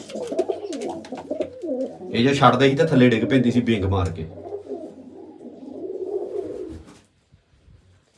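Someone talks steadily while pigeons coo softly nearby, their low throaty calls mixed under the speech before it trails off into quiet.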